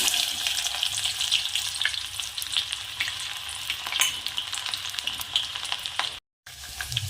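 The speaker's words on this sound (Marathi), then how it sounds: "हां तापलं आहे आता कांदा ॲड करू" Onion added to hot oil for a stuffed masala brinjal dish, a bright, dense crackling sizzle running steadily throughout, with a brief dropout near the end.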